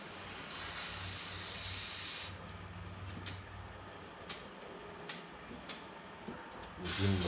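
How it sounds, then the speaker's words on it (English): Black spray paint hisses from an aerosol can onto hands for a creepy costume, a long steady burst, then several short puffs and a louder final burst. "how I'm going to do that is spray a little bit on my hands"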